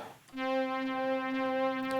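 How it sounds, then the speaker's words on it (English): A steady buzzy note from an Arturia Synth-X sawtooth oscillator with bright, raspy overtones sounds alone for about two seconds, fairly quiet. "that harsher, raspier sound is coming from a sawtooth oscillator in oscillator 2."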